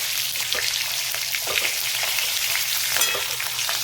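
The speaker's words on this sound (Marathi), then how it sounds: "आता ही बाजू पण आपण छान परतून घेऊ" Capsicum (bell pepper) fries in oil in a pan, giving a continuous bright sizzle with soft bursts of crackle and faint stirring, steady and close with no talking.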